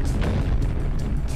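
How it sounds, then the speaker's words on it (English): An explosion in the No Man's Sky video game during a pirate attack on a base, heard as a sustained loud low rumbling boom with a few sharper bursts on top. "What was that? Explosion."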